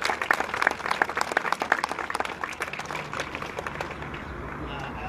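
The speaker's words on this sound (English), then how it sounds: "let's give him a big round of applause" Applause from an audience gathered at an outdoor park dedication ceremony, a dense wash of many hands clapping that starts strong and slowly thins out over about five seconds, with some murmuring voices underneath.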